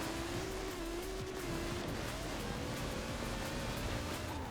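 Rally car engine revving and accelerating in the racing game Forza Horizon 4, a steady rising engine drone with gravel and tire noise, continuous and loud throughout.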